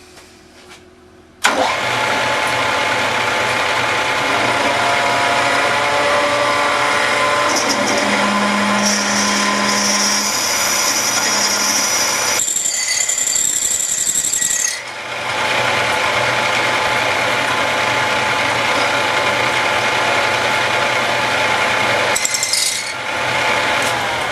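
A 10 mm drill bit boring into a steel motorcycle steering column tube on a machine: a steady, loud motor hum with metallic cutting whine runs for most of the time, briefly dipping midway before resuming.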